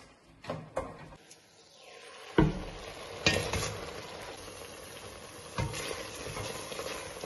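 Jam cooks in a pot while a spoon stirs it, giving soft scraping and clinking knocks at irregular intervals over a low bubbling hiss. The sounds are close and fairly quiet, with no voices.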